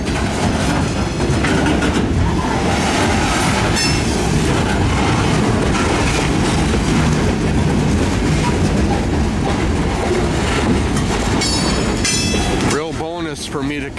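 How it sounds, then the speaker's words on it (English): A CSX locomotive pushes a cut of open hopper cars near 20th Ave SE in Largo, Florida, a loud, close, continuous rumble with rhythmic clickety-clack of wheels over rail joints and brief squeals near the end, with talk in the background. "now they're pushing a cut of open hoppers back off of the 20th Ave southeast"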